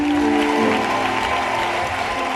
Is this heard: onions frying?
no